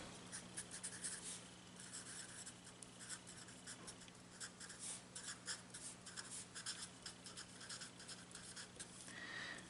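A pen writes out a calculus formula on paper, with quiet, continuous scratching strokes in short bursts, faint and close, and no talking.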